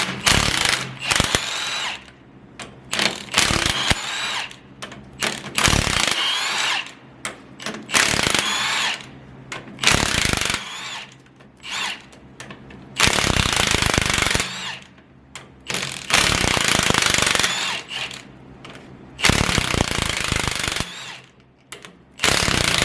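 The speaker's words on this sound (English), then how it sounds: "Grab our impact gun." An impact gun hammers out the ring gear bolts on a RAM 1500 9.25 ZF axle during a limited-slip install, firing in repeated loud rattling bursts separated by short pauses, close by.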